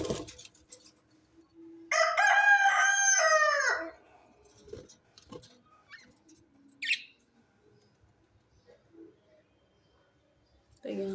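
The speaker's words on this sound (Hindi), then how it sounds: "2 मुर्गे हैं बस, वो भी बोलते रहते हैं" A rooster crows loudly for a couple of seconds, a long harmonic call, followed by quieter scattered clucks and small noises with faint talk nearby.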